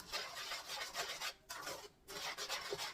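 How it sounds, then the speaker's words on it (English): A wooden spoon scrapes steadily across a pan of sugar and milk, a rough rasping rub repeated in strokes with short pauses between them, close and quiet. "I'm going to be scraping the pan the entire time"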